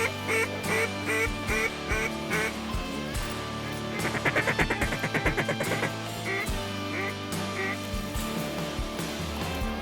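A flock of mallard ducks flying over fills the air with loud, repeated quacking from many birds at once, overlapping and rhythmic, with one burst of rapid chattering calls midway.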